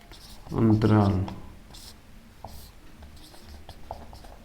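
Writing out a table by hand during a maths lesson, heard as faint, soft scratching strokes that follow a brief burst of a speaking voice at the start.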